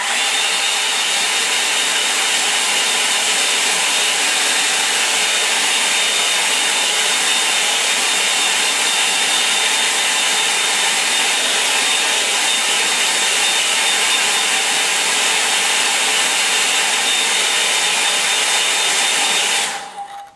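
A hair dryer blows on wet paint, giving a loud, steady, airy whir that holds unbroken for about twenty seconds before cutting off abruptly at the end.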